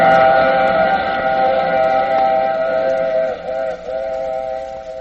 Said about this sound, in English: I take this same train every week at this same time.